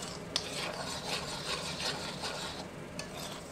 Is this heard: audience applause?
no